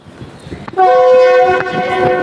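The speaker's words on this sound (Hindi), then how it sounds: "तो दोबारा विसल दे दिया है हमारी ट्रेन ने और ये दोबारा चलने के लिए तैयार है" An Indo-Pak economy-class passenger train at the historic British-era Walton railway station sounds a loud, steady multi-tone horn that begins abruptly after quiet platform ambience and holds for about a second and a half, with a brief rattle near the end.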